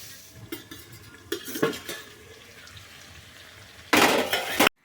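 A utensil scrapes and clinks against a pot in a few brief strokes, followed by a louder burst of sizzling or scraping near the end.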